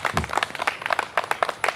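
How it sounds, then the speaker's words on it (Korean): An audience at a charity concert applauds a singer with rhythmic, fairly loud clapping, spaced clusters of sharp hand claps repeating in an irregular pulse. "수고했다고 박수 한 번 부탁드리겠습니다"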